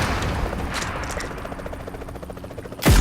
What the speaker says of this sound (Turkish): Helikoptere bindi.